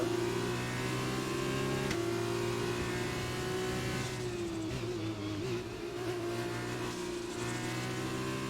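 Formula 1 car engines in the F1 2020 racing game, a sustained high-pitched engine whine with gear shifts and pitch changes, moderately quiet and steady throughout.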